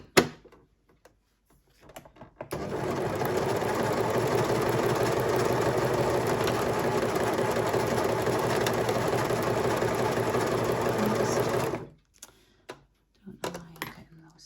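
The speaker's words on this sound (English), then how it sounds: "that's what it looks like when you run a chain off your overlocker" An overlocker runs off a thread chain in one continuous buzzing whir lasting about nine seconds, preceded and followed by handling clicks and brief quiet.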